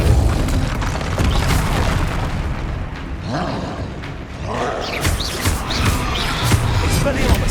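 Spell blasts and explosive impacts during a troll fight in Hogwarts Legacy, a dense run of loud booms and bursts over constant battle noise and score, with a voice shouting spell names beneath the din.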